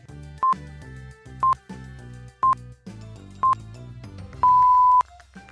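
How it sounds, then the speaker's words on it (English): Quiz countdown timer ticks along in a looping electronic tune, with a short sharp beep at each second and a longer buzzer tone near the end. "Timer starts now."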